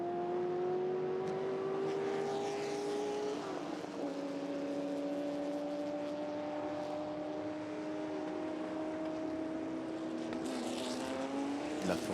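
A Ford GT40 race car at the Le Mans Classic 2018 runs continuously, its engine note holding steady with a brief shift in pitch midway, loud and close throughout with no talk over it.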